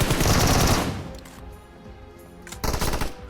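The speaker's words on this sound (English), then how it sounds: "listen, pinpoint those gunshot locations" Gunfire in the mobile battle royale game PUBG Mobile on the Livik map: a loud rapid burst of automatic fire, a short lull, then another sharp burst near the end.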